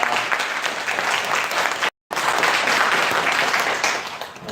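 A church congregation applauding to celebrate Christmas during a service, a full, steady burst of clapping with a brief cut partway through, then continuing strongly.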